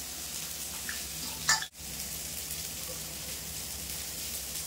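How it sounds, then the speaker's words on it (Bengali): Green chillies and kharkol leaves fry in a pan with a steady, soft sizzle that runs throughout, broken by a brief clatter near the middle; no one speaks. "দিয়ে এবার সুন্দর করে এটা ভেজে নেবো, হালকা করে ভাজবো।"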